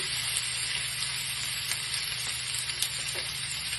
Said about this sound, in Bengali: আটটা কাঁচা লঙ্কা চেরা দিলাম দিয়ে একটু নাড়িয়ে নিচ্ছি